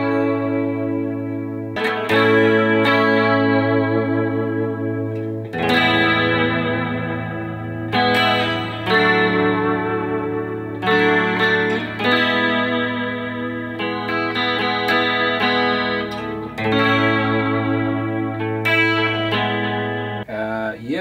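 Electric guitar with a Musiclilly hot rail pickup in a PRS 24 CE, run through effects with chorus, echo and light distortion, playing sustained chords and melodic phrases steadily and loudly, with no talking.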